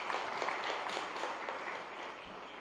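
Audience applause at a government event in Gandhinagar with the Chief Minister present: brisk, steady clapping from a crowd in a hall, fairly soft, fading slightly toward the end.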